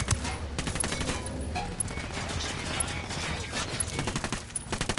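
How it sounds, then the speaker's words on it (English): Dense, continuous gunfire and rapid bursts of shots fill the scene, with a faint voice underneath, like a battle in the video game Ghost Recon Wildlands. "listening to the sound of gunfire?"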